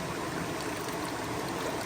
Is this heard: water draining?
yes